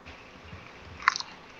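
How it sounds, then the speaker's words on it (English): A single sharp, crisp crunch of teeth biting into a fiery Carolina Reaper pepper, close and brief, followed by a few softer chewing crackles against a quiet background. "I heard the crunch though."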